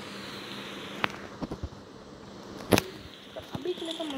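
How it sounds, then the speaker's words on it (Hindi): Gunshots ring out in the PUBG Mobile battle royale game, sharp sparse cracks spread irregularly over a few seconds with one louder burst near the middle, heard over quiet background game ambience. "आगे साइड में गोलियाँ चलती हैं"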